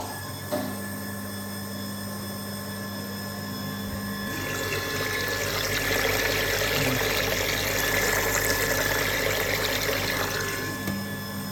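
Pump of a car heater-core and cooling-system flushing station switching on and circulating coolant, a steady rushing watery hum that swells after a few seconds over a constant electrical drone, with no talking.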